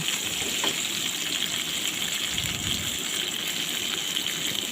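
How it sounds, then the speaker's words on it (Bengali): Magur fish and yardlong beans frying in a pan, giving a steady hissing sizzle that runs unbroken at moderate volume, with no talk. "বরবটিগুলো এখন আমি এটার সাথে ভেজে নেব"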